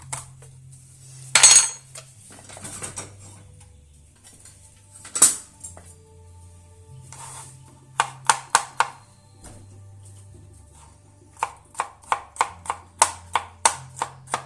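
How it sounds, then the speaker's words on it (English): Garlic cloves smashed with a knife on a cutting board for steak butter: two sharp, heavy thumps a few seconds apart, then bursts of quick, crisp knife chopping close by. "So let's smash the garlic down."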